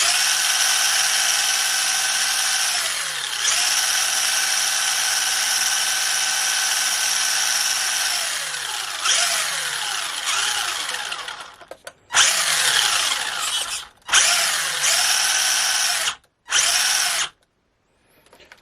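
An RC car with an RXAZ 35T brushed motor runs flat out, a high electric whine that rises and falls with throttle before breaking into short bursts and cutting out near the end.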